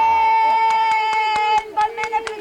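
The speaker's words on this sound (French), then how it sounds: "Une bonne main d'applaudissement pour Judith." Applause for Judith at a family party in 1989: a handful of hands clapping in an even rhythm for about two seconds, close by, over a strong steady electrical hum.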